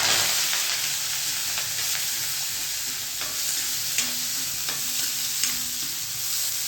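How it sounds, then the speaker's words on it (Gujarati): Tempering with mustard seeds sizzles steadily in a pan for cabbage and chilli sambharo, a constant frying hiss with occasional crackles and stirring scrapes, close and even throughout. "સંભારાનો વઘાર બહુ સરસ આવ્યો છે."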